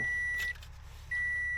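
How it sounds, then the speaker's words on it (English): A steady high electronic beep tone sounds twice, a long stretch then a pause and another, over a low rumbling truck engine hum. "Sorry about the beeping."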